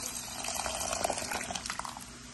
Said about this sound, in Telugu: సాంబార్ కాబట్టి ఇంకొంచెం వాటర్ కూడా వేస్తున్నా